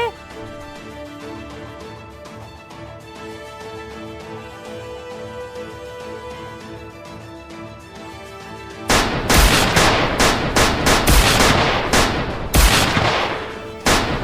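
A rapid burst of loud gunshots erupts partway through, following a stretch of steady tonal sound, with sharp cracks repeating close together.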